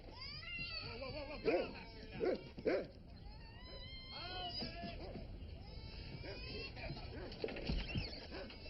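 A dog in a scene from the drama Soul Food barks a few times in short sharp yips among whimpering and cat-like cries, moderately loud with background talk and noise throughout.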